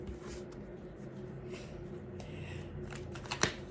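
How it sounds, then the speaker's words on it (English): Tarot cards shuffled by hand in a quiet room, a soft continuous riffling rustle with a brief sharper snap near the end as a card is pulled. "I want to pull a card here."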